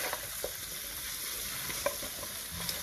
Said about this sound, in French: Ça va un tout petit peu frire.